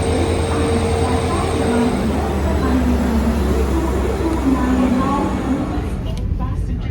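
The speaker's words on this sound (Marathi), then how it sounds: "बऱ्याच वेळेनंतर ट्रेन आली प्लॅटफॉर्मवरती" Vande Bharat train pulling into the platform at Dadar station, a loud, continuous low rumble and rolling rail noise with a steady hum that fades out near the end.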